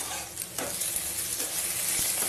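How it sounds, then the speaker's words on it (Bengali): Okra and onion fry in a pan with a soft, continuous sizzle, broken by a few stirring scrapes. The sound is moderately quiet and heard alone. "ঢ্যাঁড়স পেঁয়াজ ভালো করে ভাজা আমার প্রায় হয়ে এসছে"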